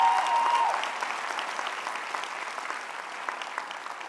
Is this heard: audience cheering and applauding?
yes